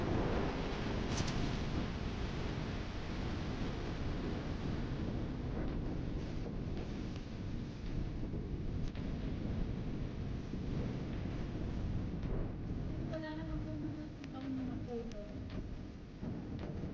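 Steady wind gusting through Hong Kong under typhoon signal no. 3, with no rain, a continuous broadband roar buffeting the microphone throughout, with faint voices briefly audible near the end.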